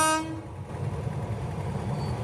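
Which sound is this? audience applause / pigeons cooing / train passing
train passing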